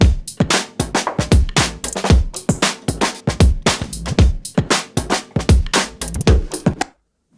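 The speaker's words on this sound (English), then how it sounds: "And the basic beat, like if you just listen, I will solo just the beat" Soloed drum beat from a sound-branding music track, punchy kicks and crisp snare and percussion hits in a steady driving groove for about seven seconds, loud and upfront before stopping abruptly.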